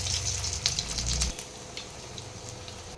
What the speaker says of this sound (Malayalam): പിന്നെ ഈ കട്ട്ലേറ്റ് ഫ്രൈ ചെയ്തെടുക്കണം